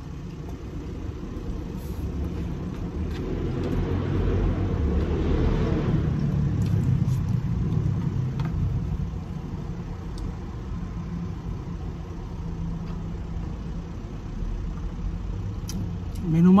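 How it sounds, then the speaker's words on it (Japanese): Heavy traffic on a busy multi-lane stretch of National Route 54 in Japan, heard from inside a parked car with the windows wide open: a continuous broad rumble of passing vehicles that swells and ebbs. "国道54号線なんで車がめっちゃ多い。"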